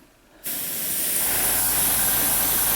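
An airbrush sprays Comart acrylic paint in the weathering colour Old Oil onto an N gauge china clay wagon model. The steady, close hiss starts abruptly after a brief quiet and continues evenly.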